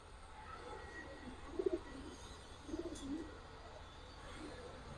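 Pigeons coo in two short, soft bursts against a quiet background hum, fairly near but low in level.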